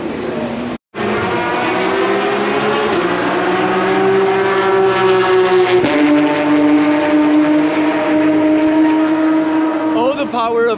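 A loud Porsche GT3 race car engine roars steadily up close at a track day, its pitch climbing through gear changes, with a brief cut near the start.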